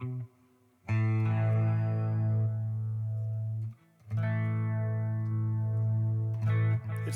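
Electric guitar played through a Headrush amp modeler with the gain turned up: loud, distorted sustained chords ring out in two long phrases separated by a brief pause, with effects-laden tails and no talking.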